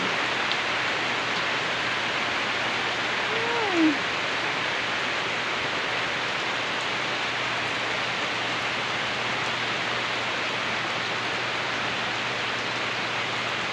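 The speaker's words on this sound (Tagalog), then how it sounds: "Bumabadak ang ulan." Heavy rain pours down in a steady, dense hiss that fills the whole stretch without letup, with a faint low hum underneath.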